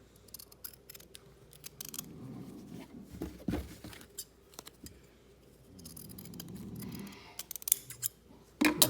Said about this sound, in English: trim the seam a little bit